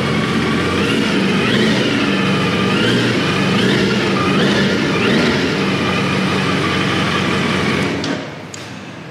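A Suzuki superbike on its stock exhaust revs steadily and loudly close by, with a continuous engine drone and small rises in pitch before it cuts back toward idle near the end.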